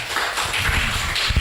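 A conference audience applauds, a dense, steady wash of many hands clapping at close range for a short stretch, with no voices on top.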